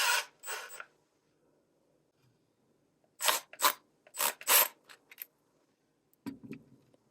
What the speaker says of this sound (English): you're going to want to snip off the ends